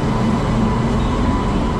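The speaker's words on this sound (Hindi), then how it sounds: "लो जी तो आ गई अपनी ट्रेन और इसमें लोकोमोटिव लगा हुआ है तुगलकाबाद का WEB 7" Electric-hauled train pulling into a station behind a WEB 7 locomotive, a loud, steady low rumble of rolling stock close by with no breaks or talk.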